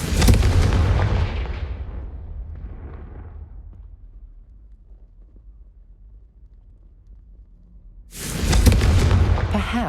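Confringo fire spell blasts in Hogwarts Legacy, a loud booming explosion that rumbles and fades over several seconds, then a second heavy blast near the end.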